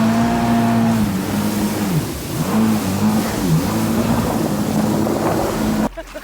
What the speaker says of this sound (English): I haven't taken this ski out in like 3 or 4 months and it's just ripping.